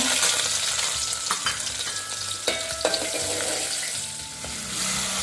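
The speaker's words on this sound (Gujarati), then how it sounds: "વઘાર કરીને મેગી બનાવીએ છીએ અમે. જીરું નાખ્યું, હવે થોડા લીલા મરચાં" Cumin seeds and green chillies sizzle and crackle steadily in hot oil in a home kitchen tempering for Maggi noodles, with occasional stirring clinks, no voices.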